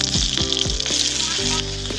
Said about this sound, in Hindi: इसको अच्छा से फ्राई करके भून लेते हैं